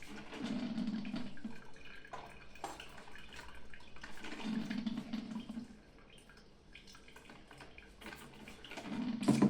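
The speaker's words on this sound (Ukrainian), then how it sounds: "вона собі всю воду потихеньку перегнала і заварила собі каву" Mandine MCM125T-16 drip coffee maker with timer passing its water through, a steady close gurgling and trickling with bursts of bubbling, fairly loud and continuous with no talk.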